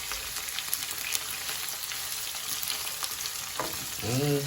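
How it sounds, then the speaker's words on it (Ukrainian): Onion frying in a pan for homemade zucchini caviar gives a soft continuous sizzle with occasional ticks of stirring, fairly quiet, and a short voice-like tone at the end. "І підсмажимо до золотистості"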